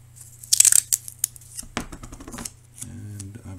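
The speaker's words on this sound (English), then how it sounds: "Yep, I'm going to just tape it on." Sticky tape rips off a roll to fix a paper piece onto a penguin automaton, a sharp close tearing burst followed by crinkly handling and a few soft taps, with a low steady hum underneath.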